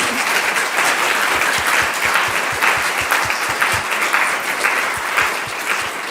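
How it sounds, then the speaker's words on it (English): Audience at a publishers' book panel gives a warm round of applause for the guests: steady, full clapping from a seated crowd lasting several seconds, fairly close and even, with little talk. "I would love for us to give a round of applause to all of our guests today."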